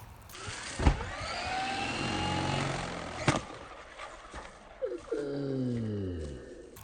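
A Traxxas RC truck landing hard after a jump: one sharp thud, then a second impact a couple of seconds later, with a steady roaring whine from the electric motor throughout that rises and falls.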